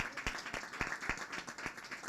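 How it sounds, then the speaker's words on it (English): Audience applause at a graduation ceremony in Jersey City: steady, moderate clapping from a crowd heard from some distance, with no voices over it. "So please give them big round of applause"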